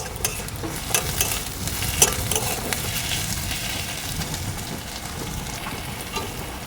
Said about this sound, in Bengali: পরিমাণ মতো লবণ দিয়ে দিলাম তো পেঁয়াজটাকে খুব ভালো করে এক মিনিটের মতো ভেজে নেব